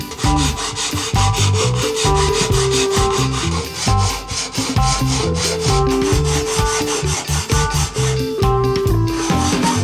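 A StewMac Z-file works the frets of a scratch-built Les Paul Junior-style guitar, giving a loud, close, rhythmic rasping with quick back-and-forth strokes that squeal with a pitched ring throughout.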